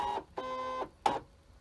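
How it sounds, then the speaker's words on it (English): Brother ScanNCut cutting machine loading a cutting mat, giving three short electronic motor whines and beeps with brief pauses between them, quiet and close. "we're going to load it back up into the machine, and then we're going to click the load button again"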